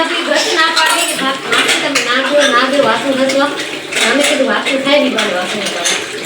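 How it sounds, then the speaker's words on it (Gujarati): Dishes being washed: pots and cutlery clink and clatter repeatedly close by while people talk over the sounds. "વાસણ ધોવે છે"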